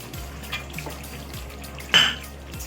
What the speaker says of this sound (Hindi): अब मैं इसमें हरी मिर्च वही डालूँगी जिसमें मसाला भरा था, ये डाल देंगे